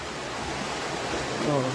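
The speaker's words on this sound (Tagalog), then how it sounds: "Ang malakas na agos ng tubig, tuluyang pinasok ang ilang bahay." Strong floodwater current rushing into houses during monsoon flooding in Cotabato, a steady broadband roar with no clear breaks, moderately loud.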